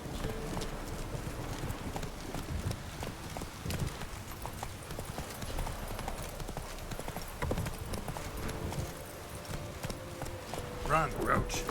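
Roach the horse galloping in The Witcher 3, a rapid steady clip-clop of hooves with occasional snorts and a brief whinny near the end, while a person talks over the game audio.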